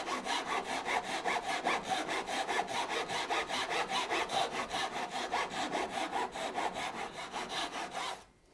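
A handsaw cuts wood just to the marked line for a tenon joint, with steady, rapid back-and-forth strokes throughout that stop abruptly near the end.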